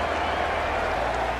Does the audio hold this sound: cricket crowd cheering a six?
yes